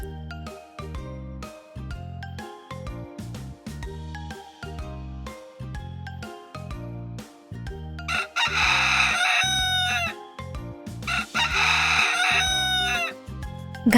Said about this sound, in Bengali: ঘাসে কয়টি মুরগি আছে?